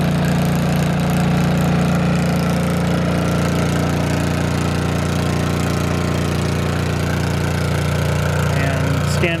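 A Pulsar 2300 portable generator runs steadily up close, a loud constant engine drone with a low hum and no breaks, while a person talks faintly under it.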